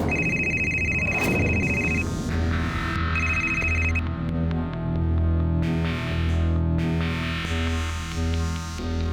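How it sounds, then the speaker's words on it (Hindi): An electronic telephone ringtone sounds in two bursts, layered over sustained musical tones with a distorted, echoey effect. "तभी मुझे निधि का फोन आया।"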